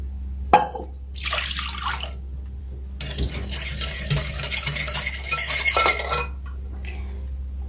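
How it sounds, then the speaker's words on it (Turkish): Two glasses of warm milk pour into a dough mixture in a bowl, a close trickling splash in bursts, joined by clinks of a utensil against the bowl over a low steady hum. "2 su bardağı sütümü ilave ediyorum"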